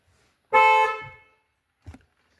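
A single loud car horn blast, held for about half a second, then a brief low thump shortly after in otherwise quiet surroundings.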